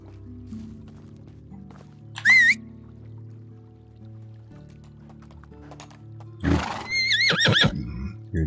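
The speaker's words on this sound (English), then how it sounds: "Dopey horse." Horses in the Medieval Dynasty game whinny twice, a short neigh early and a longer, louder one later, with soft hoof clip-clop over a quiet low musical background.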